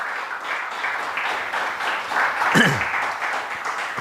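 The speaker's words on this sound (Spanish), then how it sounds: "Dale un fuerte aplauso al Señor" Church congregation applauding during a sermon, a steady wash of clapping at moderate level, with a brief vocal shout or exclamation rising briefly in the middle.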